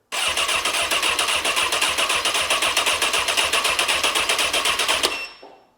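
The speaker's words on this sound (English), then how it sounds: "That was the starter going," A wrecked Honda sportbike's electric starter cranks the motor in a fast, steady rhythmic churn that runs loud and close for about five seconds, then cuts off abruptly without the engine catching.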